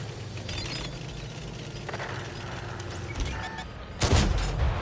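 Tank guns fire in World of Tanks: a steady low battle rumble builds to a heavy, loud cannon blast near the end, with a booming tail.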